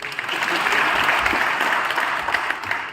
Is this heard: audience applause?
yes